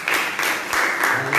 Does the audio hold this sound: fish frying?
no